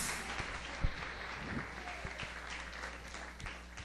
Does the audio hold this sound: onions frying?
no